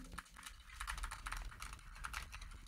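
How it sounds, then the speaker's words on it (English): Rapid typing on a computer keyboard picked up by a SteelSeries Alias microphone, a quick irregular run of close clicky keystrokes with no voice. "You can hear the keyboard."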